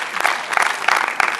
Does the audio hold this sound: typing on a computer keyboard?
no